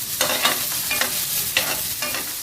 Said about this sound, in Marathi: कांदा आपण यामध्ये थोडा फ्राय करून घेणार आहोत